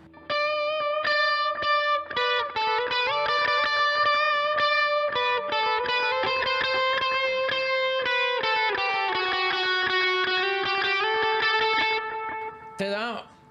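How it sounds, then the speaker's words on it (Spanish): Electric guitar played through a Cerberus pedal with distortion and delay, a sustained, distorted melodic line with echoing repeats ringing out for several seconds and then cutting off abruptly. "Y ahora puedo poner el delay y se oiría de esta manera."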